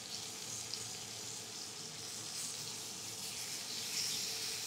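Bison steak searing in a hot pan, a steady close sizzle and crackle of frying that holds evenly throughout with no voices.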